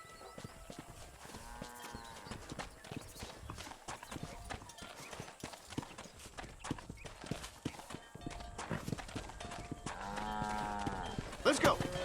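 Cattle lowing in the Red Dead Redemption video game during a cattle drive, with repeated moos over steady hoof clip-clop from horses and livestock, while voices talk throughout.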